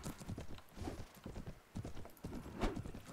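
Cavalry horses galloping in a Mount & Blade charge set in 13th-century Rus: a dense, steady clatter of many hooves with occasional neighs, close and loud throughout.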